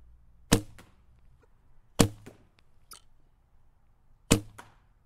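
An inexpensive bow fitted with its old string plus string and limb silencers, shot three times in a row: each release gives a sharp, loud twang-thump with a quick rattle after, spaced by quiet pauses.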